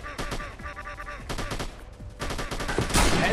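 Rapid bursts of gunfire from a mobile shooter game on the Play Store, loud and continuous with quick repeated shots and game effects, a brief voice heard alongside.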